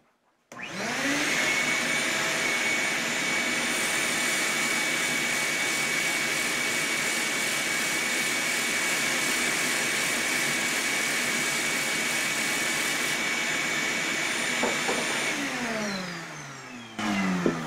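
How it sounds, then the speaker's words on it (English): A loud, steady whooshing roar of an exhaust blower motor extracting sanding dust while a flute body is turned on a lathe runs continuously, starting abruptly and winding down at the end. "I'm going to use the exhaust blower to pick up that dust."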